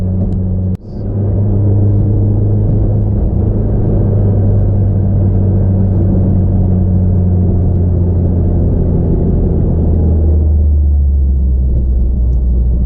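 A fully built, turbocharged Mitsubishi Evo X pulls hard in second gear, its engine a loud, deep, steady drone heard from inside the car, with a gear change or lift near the end.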